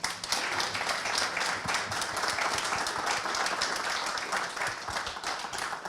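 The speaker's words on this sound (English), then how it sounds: "a big round of applause to Alex Mottee," Sustained audience applause after a workplace men's health panel, dense steady clapping from a crowd lasting throughout, fairly loud and even with no pause.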